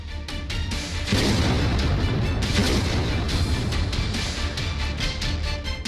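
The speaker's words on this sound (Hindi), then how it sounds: "यूक्रेन की सेना ने रूसी टैंक को निशाना बनाकर जोरदार हमला किया" Ukrainian army fire strikes a Russian tank in a war zone, and a heavy, sustained rumble of blasts and crackling bursts carries on without a break.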